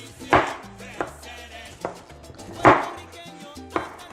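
Knife chopping sliced peppers into pieces on a cutting board while making sofrito: a handful of sharp, separate cuts, close and moderately quiet, with brief gaps between them.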